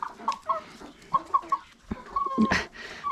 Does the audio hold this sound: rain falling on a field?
no